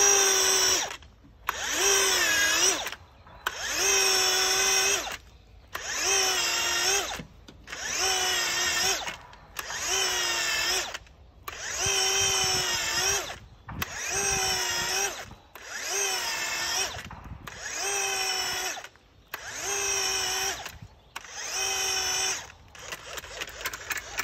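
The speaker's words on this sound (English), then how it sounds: "We've got the power planter, 5-inch heavy duty tip, and the 460 drill." A cordless drill fitted with a 5-inch heavy-duty power planter auger whirs loudly in about a dozen bursts, each running a second or two with brief pauses between, grinding steadily as it bores into soil.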